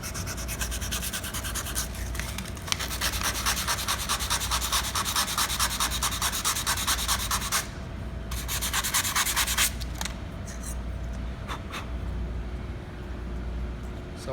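Hand sanding on the end of a metal piece being prepped for acid-core soldering, a steady close abrasive rasping that runs continuously with brief pauses and resumes in short strokes near the end.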